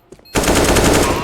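Rapid automatic gunfire in the Counter-Strike: Global Offensive video game, a loud sustained burst of evenly spaced shots breaking in after a short quiet lead-in.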